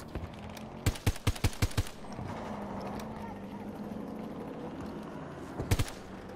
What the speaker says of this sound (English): Harry shooting at them.